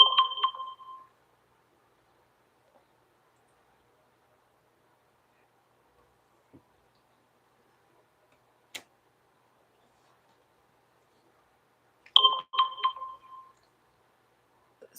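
Mobile phone alert going off in two short bursts of bright, chiming tones, one at the start and another near the end, separated by a long near-silent gap with a few faint ticks.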